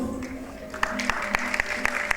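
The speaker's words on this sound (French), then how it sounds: "Merci beaucoup. On applaudit." Audience applause at a health-card handover ceremony for actors and artists in DR Congo, a steady moderate wash of clapping with a few sharper claps standing out and a low tonal hum beneath.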